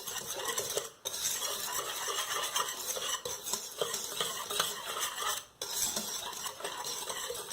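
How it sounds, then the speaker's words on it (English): A whisk rattles and scrapes steadily around a bowl, mixing flour, baking powder, baking soda, spices and salt for vegan gingerbread, close up and continuous with two brief pauses. "just whisk together the dry ingredients"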